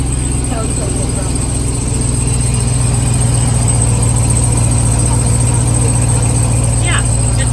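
A truck engine idles in a loud, steady drone with a constant low hum and a noise seeming to come from the flywheel area, while people talk over it.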